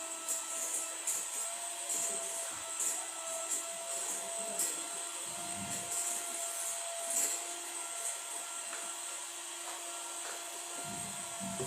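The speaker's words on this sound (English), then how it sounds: "We are mixing that with a beater." Electric beater whirring through cake batter in a kitchen, a faint, steady high-pitched motor hum with small bumps and scrapes as the beaters move through the mix.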